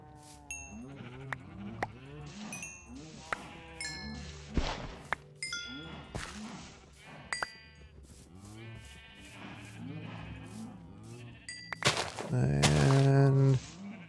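Blocky sheep in Minecraft bleat repeatedly over a farm scene, several wavering calls in quick succession, close and clear, mixed with chiming pickup dings and game effects and a louder buzzing burst near the end.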